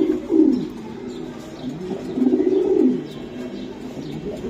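Racer pigeons coo loudly and close by in two rolling bursts, with a throaty, pulsing low tone that swells and fades against a quiet background.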